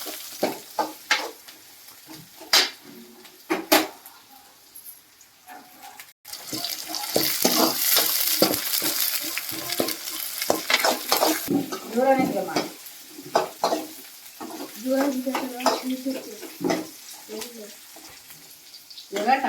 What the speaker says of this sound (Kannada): ಇವಾಗ ಹಸಿಮೆಣಸಿನ್ಕಾಯಿ ಹಾಕ್ಯಂತೀನಿ.